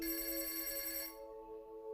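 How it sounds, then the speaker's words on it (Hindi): A telephone rings with a bright, steady electronic bell tone that cuts off about halfway, leaving a lower lingering hum; close, clear and alone with no voices. "उसके फ़ोन की घंटी बजी"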